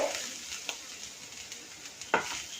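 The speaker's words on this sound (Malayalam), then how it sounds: "ഇത് നന്നായി വഴണ്ടു വന്നതിന് ശേഷം അതിലോട്ട് കുറച്ച് കളറിന് വേണ്ടിയിട്ട് കാശ്മീരി മുളക് കൂടി ഞാൻ ചേർത്ത് കൊടുക്കുന്നുണ്ട്" Onions sauté in a pan with Kashmiri chilli for a dried prawn dish, making a faint, soft sizzle. A few light stirring scrapes and taps break through, including one sharper knock near the end.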